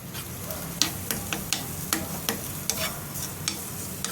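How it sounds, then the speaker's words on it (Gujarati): Mawa roasting in ghee over a slow flame gives a soft, low sizzle under repeated light scraping and stirring clicks from a spoon against the pan, close and fairly quiet. "માવાને આપણે ઘીની અંદર ઉમેરી લીધો છે અને એકદમ સ્લો ફ્લેમ પર આપણે એને ઘીની અંદર શેકી લઈશું"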